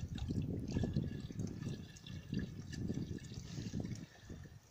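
Birch sap drips into a bottle outdoors in cool weather, a soft, irregular patter of quick drops with faint liquid trickling, quiet and close.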